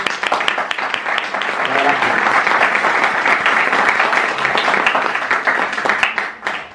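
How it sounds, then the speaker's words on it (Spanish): Loud, close audience applause welcoming a speaker, dense rapid clapping sustained for several seconds before tapering off at the end. "te recibimos con un aplauso"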